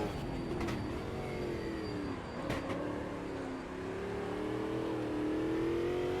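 Lone race car circling a South American track in Automobilista 2, engine revving and pulling through gears in a steady, fairly loud drone with a couple of sharp shift blips.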